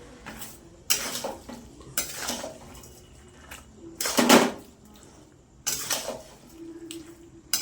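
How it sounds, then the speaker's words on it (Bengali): Fish heads with bottle gourd are stirred in a pan, with several loud bursts of spatula scraping and clanking against the metal over a soft background sizzle. "এবার ভালো করে নাড়তে হবে।"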